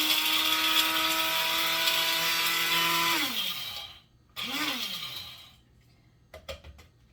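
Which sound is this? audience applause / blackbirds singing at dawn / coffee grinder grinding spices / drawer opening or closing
coffee grinder grinding spices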